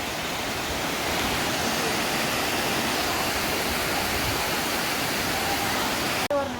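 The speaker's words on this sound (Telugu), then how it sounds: "ఇది వచ్చేసి కొండమల వాటర్ ఫాల్స్ అన్నమాట" Kondamala waterfall near Chikmagalur, a steady loud rushing roar of falling water heard close by, unbroken for the whole stretch with no voices over it.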